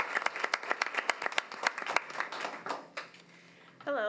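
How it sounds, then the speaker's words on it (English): Audience applause at a school board of education meeting as student ambassadors approach the podium, scattered distinct claps that thin out and fade, then a voice begins at the very end. "Feel free to give them a round of applause as they come."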